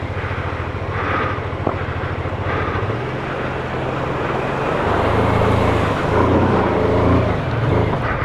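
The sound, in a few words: BMW F450GS motorcycle engine climbing a steep trial track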